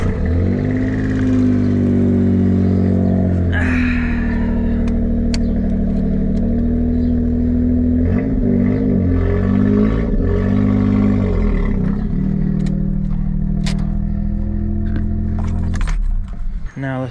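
Suzuki Cappuccino engine starting up after sitting unused for a long time and driving a short distance, a loud, steady low rumble with shifts in pitch as it revs and moves, ending abruptly.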